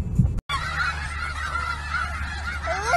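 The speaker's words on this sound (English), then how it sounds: "Look at all those chickens." Geese honk loudly and repeatedly up close, a chorus of nasal calls continuing after a brief cut.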